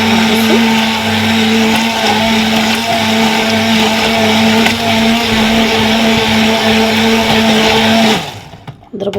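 An electric blender beats crepe batter with a steady, loud whirring hum. The motor runs continuously for about eight seconds, then winds down and stops.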